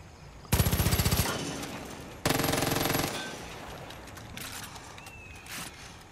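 Gunfire in the video game Far Cry 5: two loud rapid automatic bursts, each about a second long, followed by quieter ambient game sounds.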